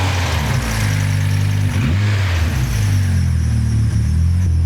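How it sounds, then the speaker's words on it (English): A turbocharged Nissan 240SX engine revs up sharply from a throttle blip and settles back, loud and close, in a short burst with no one speaking. "Now, if I was to go blip the throttle,"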